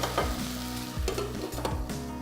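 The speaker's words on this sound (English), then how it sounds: "give it a little stir." Diced vegetables sweating under a lid in a soup pot for pea and mint soup, stirred now and then: a steady close sizzle with several soft scraping stir strokes.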